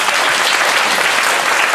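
Warm applause at a 2014 integrity-cup debate contest welcoming a deputy director of an anti-corruption agency, dense unbroken clapping from a large audience, loud and close.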